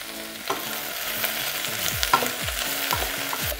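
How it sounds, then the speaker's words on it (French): Vegetables and shrimp shells frying over high heat in a pan, with a steady sizzle broken by repeated scraping strokes as they are stirred, close up and with no talking. "On va laisser nos légumes revenir après 4-5 minutes en mélangeant régulièrement."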